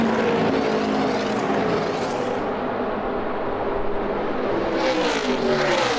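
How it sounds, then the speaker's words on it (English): NASCAR race car engines roar steadily on the track in Texas, a sustained loud drone with a rising, whining pitch as the cars run at speed. "what a bold outside pass on Kevin Harvick to take the lead in this one, and he's driven away with now a half a lap to go"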